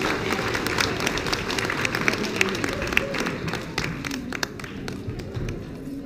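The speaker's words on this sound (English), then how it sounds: "Everybody, can you please give them a big round of applause?" Concert audience applause at a church event, steady dense clapping filling the room at moderate distance, with a few louder claps standing out, fading slightly toward the end.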